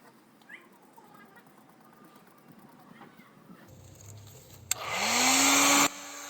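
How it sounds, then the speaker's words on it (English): A hairdryer switches on at low speed to dry fresh paint on the rust-repaired wheel arch of a Range Rover L322, a steady loud whoosh with a rising motor whine for over a second before cutting off, after quiet room noise. "you can use a hairdryer or a heat gun, but make sure it's set at low speed so the paint would not burn or bubble"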